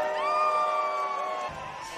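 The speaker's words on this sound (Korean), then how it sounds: "주변에선 환호성이 쏟아집니다" Crowd cheering and whooping, loud and close, erupts around the 78-year-old actor Oh Young-soo as he dances at a US Emmy Awards afterparty, with drawn-out shouts that fade after about a second and a half.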